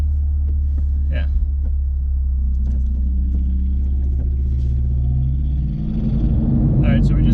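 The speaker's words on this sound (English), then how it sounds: "we just got on the highway. We're going about 80 miles an hour in 6th" A manual 2020 Toyota Supra cruises on the highway in 6th gear at about 80 mph, with a constant deep engine and road rumble filling the cabin beneath ongoing talk.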